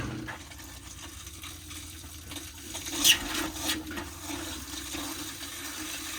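Pink antifreeze runs from a camper's kitchen sink faucet during winterizing, a steady hissing stream of liquid with a brief gurgling surge midway, moderately close and without talk.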